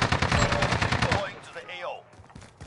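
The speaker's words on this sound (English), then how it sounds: "Getting shot from green roof, like way down the ways." Rapid bursts of automatic gunfire in a video game shootout, loud and close for about a second, then giving way to quieter scattered game sounds.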